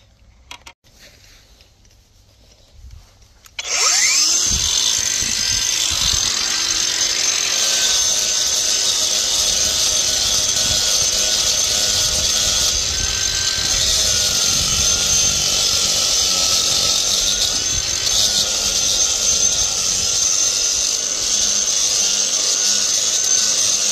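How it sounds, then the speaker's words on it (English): An angle grinder spins up after a few quiet seconds and then whines loudly and continuously for about twenty seconds while smoothing out a narrowed section of a blocked drain. "I'm going to smooth that out with the angle grinder."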